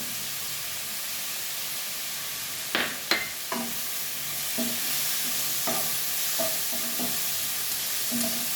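Mushrooms with turmeric sizzle steadily in a frying pan while a spatula stirs them, giving several distinct scraping knocks over the continuous close hiss.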